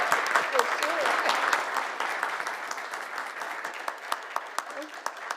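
A room at a city council meeting fills with applause, dense crowd clapping that slowly thins into scattered, distinct claps near the end, with faint voices murmuring underneath.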